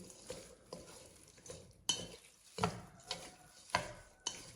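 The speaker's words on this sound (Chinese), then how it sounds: "然后给它用筷子搅拌均匀" Chopsticks stir asparagus dressed with dark soy sauce, chili oil and sesame oil, making a run of distinct clacking, scraping strokes about every half second to second, close and fairly quiet with no voices.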